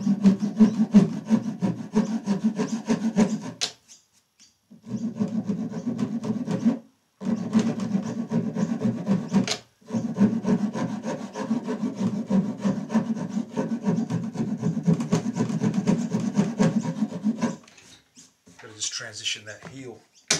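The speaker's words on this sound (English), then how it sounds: "Grab our half rasp. I've got to transition this little guy." A half rasp scrapes rhythmically across a wooden guitar neck heel in long rough strokes, close up, with short pauses between runs of strokes and someone talking quietly at times.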